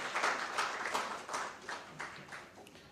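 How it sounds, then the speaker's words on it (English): A conference audience applauds after a presentation on social protection and public finance in Uganda: soft, distant clapping with a loose pulsing rhythm that fades and swells. "Please, let's give her another round of applause."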